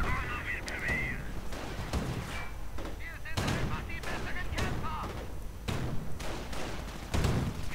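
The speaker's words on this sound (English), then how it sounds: "Another grenade going into the trench." Explosions and gunfire boom repeatedly across a trench in a war video game, with several heavy thuds and bursts spread through the clip over constant battle noise and some voice in the mix.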